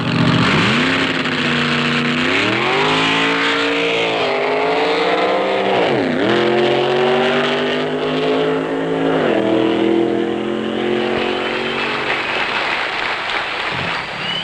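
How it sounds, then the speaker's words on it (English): Factory experimental drag racing cars launching off the starting line and accelerating hard to about 130 mph: loud, continuous engine roar climbing in pitch through repeated upshifts, close and dominant, with no talk. "the factory experimental cars thrill the crowd as they lunge off the starting line and blast to 130 miles per hour"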